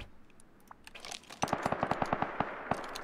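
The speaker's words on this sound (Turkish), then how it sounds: "Sıkıyorum ben." Gunfire in the survival game Rust: after a few scattered pops, a rapid string of about a dozen sharp, evenly spaced shots rings out close and loud, with no talking.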